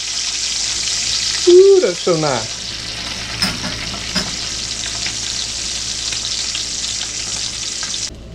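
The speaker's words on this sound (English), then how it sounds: "You hear that sizzle?" Bacon strips sizzle in a pan over a campfire, a steady close crackling fry that runs the whole time, with a brief voice speaking over it.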